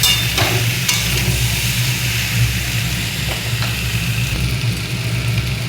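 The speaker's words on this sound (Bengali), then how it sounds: "চিনি দিয়ে আবার একটু কষবো" Fish curry masala is stir-fried with sugar in a pan, giving a steady, close sizzle with scraping stirs and a low background hum throughout. No one speaks.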